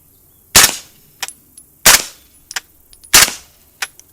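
Three sharp suppressed 9mm shots from a CMMG upper with a 4.5-inch barrel fitted with a Dead Air Primal suppressor, evenly spaced about 1.3 seconds apart at an outdoor range, each a loud close crack followed by a brief fainter report.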